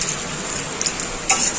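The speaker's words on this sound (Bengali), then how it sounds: "মা আজকে পকোড়া ভাজছে" Bread pakoras stuffed with potato filling sizzle steadily in hot frying oil, a close continuous crackle with a brief louder spatter near the end.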